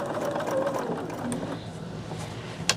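A sewing machine stitches quilt pieces for a Bella Rose advent quilt, giving a close, steady mechanical whir with rapid needle clatter and a small click near the end, and no talk.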